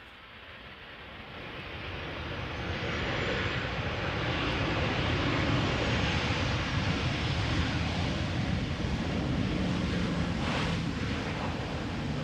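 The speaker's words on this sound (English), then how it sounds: "KLM 737" A KLM Boeing 737 airliner landing at Amsterdam Schiphol: a broad roaring jet rush swells over the first few seconds and holds loud and steady, with some wind noise and no talk.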